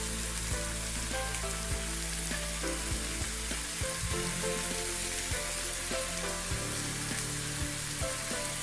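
Onions and green chilies fry in oil in a pan, giving a dense, continuous crackling sizzle like rain on a surface, close and steady throughout with faint spatter pops.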